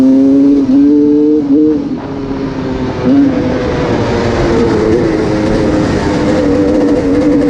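A GasGas 300 EC two-stroke dirt bike engine revs loud and close, with its pitch rising and falling before it holds a sustained, buzzing drone.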